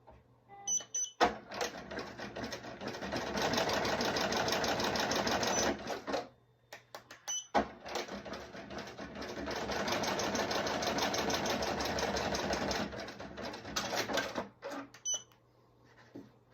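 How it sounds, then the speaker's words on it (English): An embroidery machine stitches patches onto hats in two long runs of rapid, even mechanical chatter separated by a brief pause, with a few clicks and beeps around the starts and stops. "That is how I am using my embroidery machine to stitch patches onto hats."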